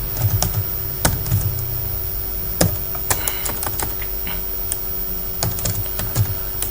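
Rapid, uneven clicks of fingers typing on a computer keyboard while entering text in Microsoft Word, close and fairly crisp over a steady low electrical hum, with short bursts and brief pauses.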